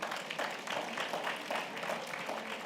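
Audience applause at a regional conference honoring sponsors for 20 consecutive years of service, a steady, dense clapping from a crowd held at an even level throughout without a clear start or finish.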